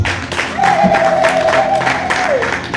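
A church congregation claps together in a steady, dense round of applause, close and fairly loud, with a voice briefly rising over it partway through.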